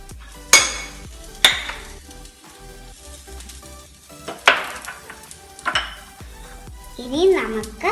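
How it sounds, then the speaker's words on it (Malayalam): Chopped tomatoes land in a hot pan for spicy uttapam topping, then a spoon scrapes and clanks against the metal in sharp, irregular knocks over a low, steady sizzle. "ഇനി നമുക്ക് തക്കാളി ഇട്ട് കൊടുക്കാം."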